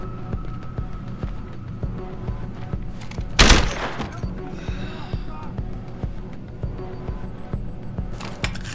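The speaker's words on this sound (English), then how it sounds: "Fucking gunshot!" Gunfire in the video game Deus Ex: Human Revolution, with a loud burst of shots in the middle over a steady droning game background.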